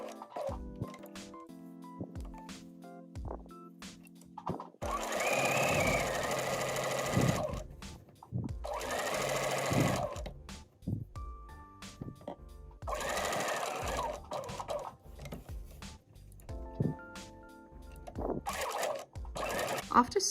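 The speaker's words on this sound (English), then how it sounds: "sew down with 1 centimeter seam allowance, pivot again, and sew back to the other notch" A sewing machine stitches a seam with a 1 cm allowance on a garment, pivoting at corners. It runs in several close, steady bursts of a few seconds each, with quieter handling sounds in the pauses between.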